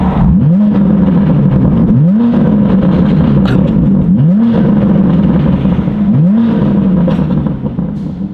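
Close and very loud, a BMW M3 with a new Valvetronic exhaust gets four sharp throttle blips about two seconds apart over a deep rumbling idle, each rev snapping up and falling back with crackling pops.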